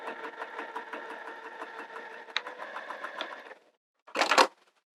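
Sewing machine stitching binding onto a quilt, a steady close mechanical whir with rhythmic needle ticks for several seconds, then a pause and a short sharp burst like thread being snipped or fabric pulled.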